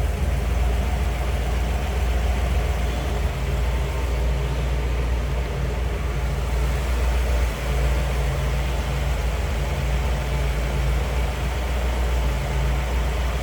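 A stock 1957 Ford Thunderbird with a rebuilt 292 V8 idles smoothly and steadily, a low, even engine rumble heard close up with no talking.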